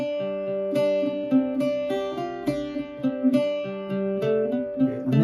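Irish bouzouki plays the A section of the jig The Hag At The Churn, bright plucked strings with steady rhythmic strums and ringing drone notes, close and clear with no talking.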